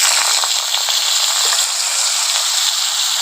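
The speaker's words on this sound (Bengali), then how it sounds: "ফোড়নের সঙ্গে আলুটাকে একটু ভেজে নিচ্ছি।" Small-cut potatoes fry in hot oil with fennel and black cumin seeds, giving a steady, loud, close sizzle that holds evenly throughout with no talking.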